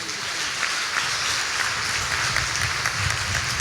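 Church congregation at a worship service clapping together, a steady sustained wash of many hands filling the room at a fairly even level throughout.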